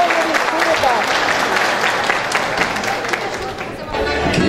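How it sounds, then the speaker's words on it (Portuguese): Applause from an audience at a gaucho traditions festival honoring women, steady clapping filling the hall with voices and faint speech mixed in throughout. "Mais uma salva de palmas às mulheres que aí fazem sonhar."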